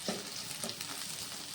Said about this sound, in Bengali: সেদ্ধ করে রাখা মাশরুমগুলো আমি এখন দিয়ে দেব। তো এখন গ্যাসের ফ্লেমটাকে মিডিয়ামে রেখে 5-7 মিনিট মতো আমি ভালো করে কষিয়ে নেব